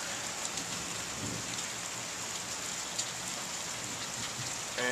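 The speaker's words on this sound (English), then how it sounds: "got a nasty storm heading towards us, it seems like." A thunderstorm builds, with steady heavy rain pattering close by throughout and low thunder rumbling beneath the downpour, with no voices present.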